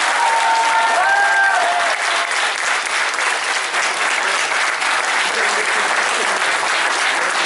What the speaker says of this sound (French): J'aimerais avoir une salle d'applaudissements pour le féliciter.